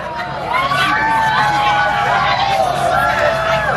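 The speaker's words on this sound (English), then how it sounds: "The swell of the crowd" A large crowd of students outdoors at a middle school during the 2024 solar eclipse in New York, swelling with cheers, whoops and shouts as a continuous roar, loud and sustained, with voices rising over the mass.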